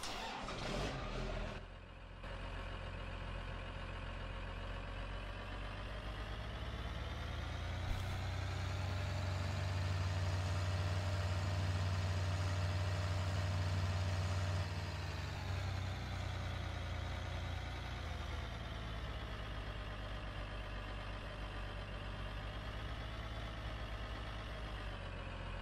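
Tractor engine in Farming Simulator 2013 cranking over and settling into a steady, continuous idle with a low droning hum, loudest mid-way, with no talk over it.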